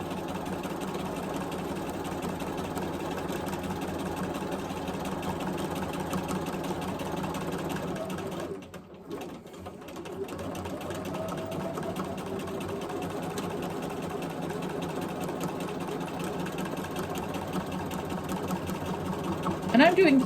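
A sewing machine runs steadily during free motion quilting of geometric shapes, a fast, even mechanical whir close by that pauses briefly midway, then resumes at the same pace.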